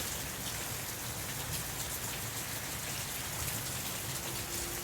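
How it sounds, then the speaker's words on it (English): Steady rain falls during a December rainstorm in Fort Worth, Texas, a dense continuous patter and hiss of drops on surfaces with no voices. "I love the rain."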